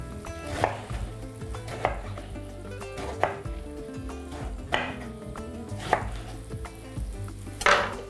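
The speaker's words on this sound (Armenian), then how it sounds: "կտրատում ենք միջինից ավելի փոքր մասերի" Periodic knife chops on a board as food is cut into small pieces, about six distinct strikes spaced irregularly, over a low background hum of a kitchen.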